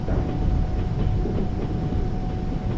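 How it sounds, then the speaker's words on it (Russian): Electric commuter train rolling past in a Trans-Siberian Railway Simulator game, a steady dense rumble with faint rhythmic wheel clatter, close and continuous without talk. "Это едет. Электричка,"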